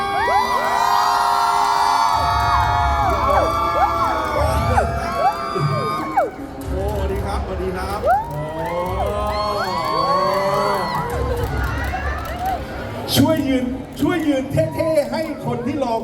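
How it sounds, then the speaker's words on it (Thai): A crowd at a stage event roars a welcome for arriving guests with loud cheering, whoops and children's shouts. The din swells and dips throughout while voices call over it. "ทุกคนครับ ปรบมือดัง ๆ ต้อนรับอันโทนี บุยเซเร่ และอัพภูพา"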